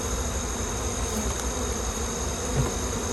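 Dense swarm of honey bees filling the air during a late-season swarm catch, a steady, continuous buzz close to the listener with no voices.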